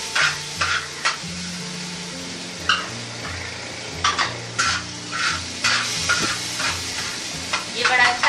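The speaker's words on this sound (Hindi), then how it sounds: "अब हम इसमें ऐड कर देंगे हमारी हरी मिर्चें जो हमने काट के" Tomatoes and chopped green chilies frying in ghee or oil in a pan, with steady sizzling broken by repeated scraping stirs and light metallic clinks of a spoon against the pot.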